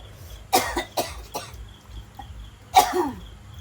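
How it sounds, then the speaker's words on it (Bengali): Several sharp coughs after eating very spicy fuchka during a fuchka-eating challenge, with a burst near the start, two more shortly after, then a louder cough later, close and clear over a quiet background. "কাশি দিও না তো।"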